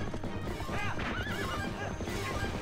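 Epona, the horse in the video game The Legend of Zelda: Twilight Princess, gives a wavering whinny over steady galloping hoofbeats amid dense game sound, with no talking.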